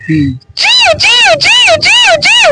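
A voice mimics a small myna bird's call, repeating a bright whistling chirp five times in a steady rhythm, close and loud after a brief bit of speech.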